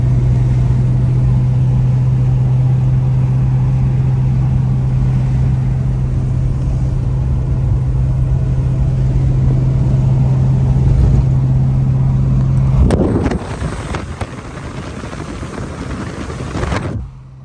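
Car engine left running to circulate a freshly added oil additive, a loud, steady low hum and rumble that ends abruptly in a burst of clatter before fading.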